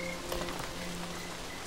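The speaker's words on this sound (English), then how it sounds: "Heavy rain pours down unexpectedly." Heavy rain pours down in a steady hiss of falling drops, with faint tonal calls running underneath.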